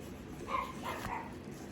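Dogs bark outdoors at a distance, two or three faint, muffled barks in quick succession against a quiet background.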